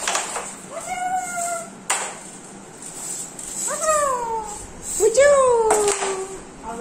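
A nearby cat meows three separate times, the calls drawn out and falling in pitch, with quiet gaps and a couple of soft knocks between them.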